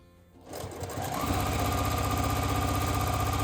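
A straight-stitch-only sewing machine starts up and runs at a steady fast rhythm, stitching fabric for a badge lanyard, loud and close with no talk.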